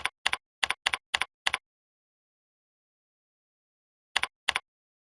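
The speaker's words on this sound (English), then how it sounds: "We can simply type a new description." Keys clatter on a computer keyboard as a new description is typed, six quick close taps in a burst, a long silent pause, then two more isolated keystrokes.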